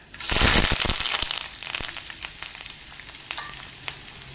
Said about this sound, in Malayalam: വെളിച്ചെണ്ണ ഒഴിച്ച് കൊടുക്കുന്നുണ്ട് കടുക് പൊട്ടി വരുന്നുണ്ട് ആ സമയത്ത് കുറച്ച് കൊച്ചുള്ളി അരിഞ്ഞത് കറിവേപ്പില വറ്റൽമുളക് ഇത്ര ഇതിനകത്തേക്ക് ഇട്ട് കൊടുക്കുക